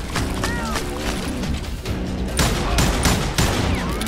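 Rapid gunfire bursts and shots crack repeatedly in the Call of Juarez Gunslinger video game, dense volleys with impacts layered over game music, loud and continuous throughout.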